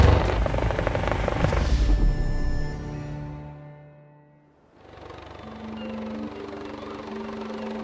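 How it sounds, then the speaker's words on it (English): An air ambulance helicopter landed on a beach near Hartlepool with its rotors left turning. The loud rotor and engine roar fades out briefly, then a steady whine and hum return. "When we land on a beach, our practice is to leave the rotors turning and burning"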